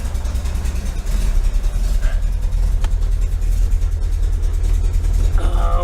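A 1973 VW Super Beetle air-cooled engine fitted with a Dellorto FRD 34B carburettor idling at about 600 rpm, a loud, close, steady low chugging throb with a slightly uneven pulse and no talk.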